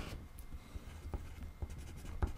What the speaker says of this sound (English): I'm going to write down